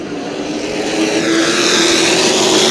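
Sportsman race cars accelerate at the start of a race at New Smyrna Speedway, a loud, rising engine roar that builds steadily with no speech.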